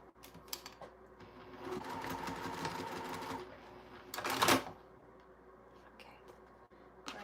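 A sewing machine stitches through a fabric scrap in a quiet room, a steady close whirring run of a few seconds followed by a brief louder burst and small clicks.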